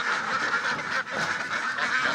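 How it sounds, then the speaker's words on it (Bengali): Dense, overlapping quacking from a flock of Pekin ducks on a duck farm in Comilla, loud and continuous with no pauses, like a crowded pen close by. "এগুলো হচ্ছে বেজিং হাঁসগুলো"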